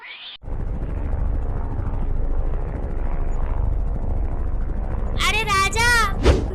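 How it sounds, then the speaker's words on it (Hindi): A steady low rotor drone of a falling helicopter fills the scene, with a high squealing cry breaking in near the end. "अरे राजा बाबू, ऊपर देखो, हेलीकॉप्टर गिर रहा है।"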